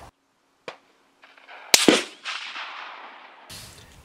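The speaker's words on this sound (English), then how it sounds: "I can tell this GP11 has a little more of a whack to it than my 150 grain bullets." A rifle fires a single GP11 cartridge outdoors at a range, giving a sharp loud crack that rings off into a fading rumble, with a few faint clicks before it.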